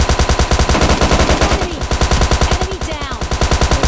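PUBG Lite gunfire from a prone shootout: loud, rapid automatic bursts hammering in a steady rhythm for the full stretch, dense and close, with no talk over it.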